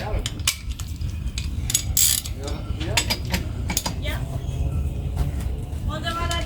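A socket wrench with a 21mm socket ratchets the tie rod nuts tight on a 1999 Ford 7.3 Super Duty dually, giving close, repeated clicking bursts over a low background hum while someone talks.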